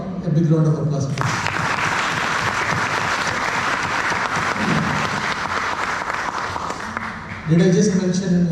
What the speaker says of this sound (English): Again, for that wow talk, a big round of applause,